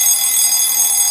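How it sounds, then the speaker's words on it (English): A steady, continuous electronic alarm rings loud and unbroken, a high-pitched tone playing as grandma's alarm in a Roblox game, with no voices over it. "Oh no, do you guys hear that? It's Grandma's alarm."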